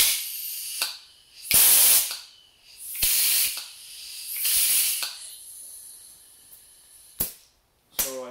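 Compressed air blown in short bursts into a 2015 VW TDI switchable water pump, giving several loud hissing gusts with pauses between them, each ending with a sharp pop.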